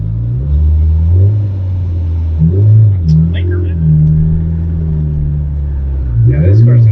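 Turbocharged Honda Civic accelerating hard from inside the cabin, a loud low engine drone rising and shifting in pitch, with occupants talking over it.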